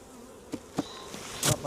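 Honeybees buzz around an open hive during an inspection, a close droning hum with a few sharper passes of single bees flying near, and no talk.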